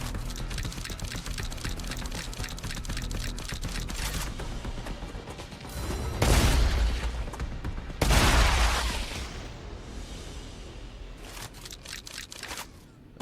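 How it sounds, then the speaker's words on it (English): Shotguns fire in the video game StarRupture: a rapid run of sharp clicking shots, then two louder, broad blasts a couple of seconds apart, trailed by scattered lighter clicks. "I'm not a giant fan of these shotguns."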